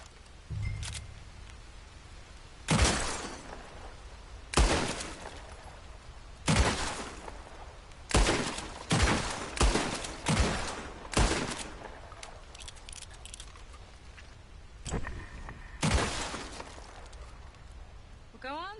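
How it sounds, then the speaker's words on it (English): Target shooting in Red Dead Redemption, a series of sharp single gunshots spaced out, some in quick clusters, loud and close against a quiet outdoor background with little else present. "I'll shoot a few more this time."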